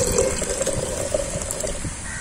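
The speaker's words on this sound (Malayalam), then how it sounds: "മൗണ്ടൻ ഡ്യൂ ഒഴിച്ചു." Mountain Dew soda pours steadily into a glass for a mixed cool drink, a continuous close liquid splash and gush with fizzing hiss, moderately loud and alone without talk.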